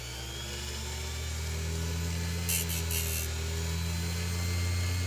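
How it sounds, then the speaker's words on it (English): Bench grinder scoring a water lotus seed, a steady motor hum and whine throughout with a couple of brief higher grinding bursts as the seed touches the wheel. "Be very careful when you use a bench grinder because I have ground down my fingers as well."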